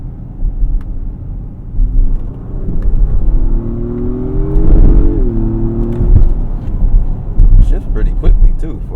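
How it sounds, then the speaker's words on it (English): An Acura MDX Type S accelerates from a roll with quick paddle-shifted gear changes, its engine tone climbing and stepping down at each shift under steady road rumble, with a voice talking over it. "Shifts pretty quickly too for the paddle shifters."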